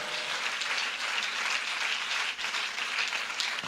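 Church congregation applauding during a Sunday Easter sermon, a steady wash of clapping from many hands that fills the room for several seconds, fairly loud and continuous with no speech over it.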